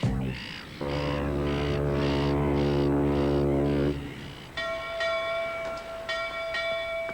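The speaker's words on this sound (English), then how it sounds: "were you ringing this bell?" A sustained resonant tone gives way to bright, ringing bell strikes that chime several times and linger.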